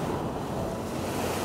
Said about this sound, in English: Holy smokes, these waves are crazy.